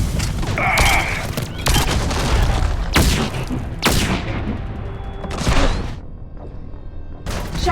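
Heavy gunfire and booming blasts in a Mass Effect 3 firefight, loud bursts of shots and impacts arriving in waves with brief lulls, close and intense, with shouted voices faintly mixed in.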